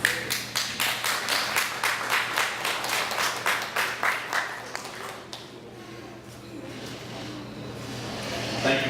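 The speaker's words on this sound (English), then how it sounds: "Another round of applause." Audience applause at a 2013 student government spring candidate forum, a steady burst of many hands clapping for about five seconds before fading into room murmur.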